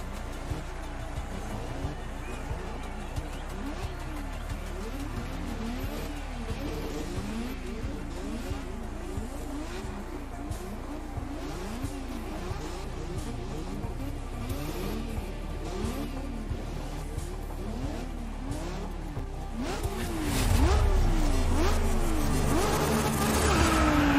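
Historic GT race cars in the Grid racing game roar around the track as a pack, layered engine notes rising and falling with shifts, plus tyre squeal and a louder surge near the end.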